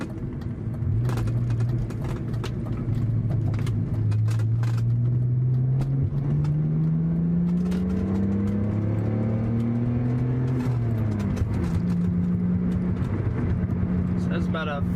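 BMW 530i fitted with a full aftermarket exhaust revving up through second gear to about 5,000 RPM, a steady rising engine tone with a shift-like dip partway through, loud and close inside the cabin over constant road noise.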